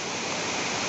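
A strong river current at Serra Azul Velho in Palmares, Pernambuco, a loud, dense, steady rush of water filling the short moment.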